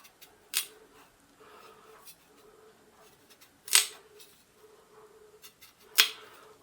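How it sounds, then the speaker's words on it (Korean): A knife slices off the dark part between a radish and its greens while the radish is prepared for dongchimi, giving three sharp, crisp cuts spaced a few seconds apart against a quiet background. "그 다음에 여기 이제 무청과 이 무 사이에 검은검은단 게 있어요. 자, 얘는 이렇게 칼로 잘라줍니다."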